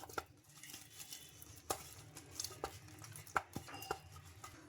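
Soft paratha dough being mixed with a spoon of oil in a bowl, giving a quiet scraping and patting, with light clinks of metal against the bowl scattered through.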